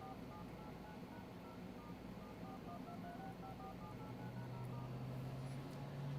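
Keypad dialing tones on the emergency call screen of an iPhone 6S Plus under repair, a series of short beeps spaced unevenly over steady background hum.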